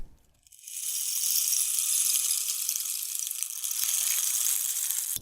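A small rain stick tilted to imitate rainfall gives a steady, bright hiss of pattering beads that starts after a brief pause and runs for several seconds, close and fairly loud, with no voice.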